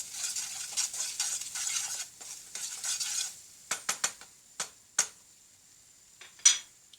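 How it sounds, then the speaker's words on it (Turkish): A spoon stirring a dish in a pan after salt and black pepper go in, with a dense scraping sizzle for the first few seconds, then sparse sharp clicks and taps of utensil on metal. "Yine şu şekilde karıştırıyorum."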